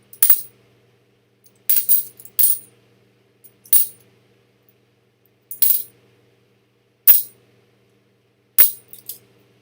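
Coins from a mixed batch of older and Chinese coins are handled and dropped, a series of about eight sharp metallic clinks and jingles at irregular intervals, close and crisp with silence between them.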